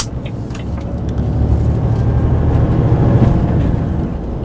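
Volvo FM 460 Euro 6 truck with a straight-six diesel of 338 kW and 2,300 Nm, pulling in low range: a steady, loud low-pitched engine drone rumbling throughout, with no speech.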